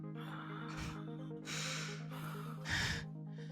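A woman pants and gasps desperately for breath in three sharp, ragged bursts separated by short pauses, close and fairly quiet against a low steady background hum.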